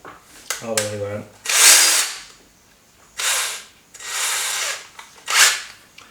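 A power drill fitted with a thin bit runs in several short bursts on a workpiece, loud and close, with pauses and a brief mechanical click between runs.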